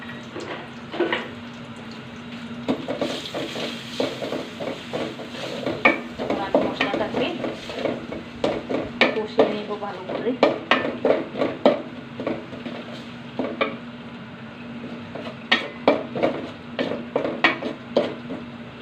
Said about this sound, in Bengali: এখানে আমি আদা রসুন পেস্ট মরিচের গুঁড়া হলুদের গুঁড়া ধনিয়ার গুঁড়া লবণ একসাথে রেখেছিলাম এখন দিয়ে দিচ্ছি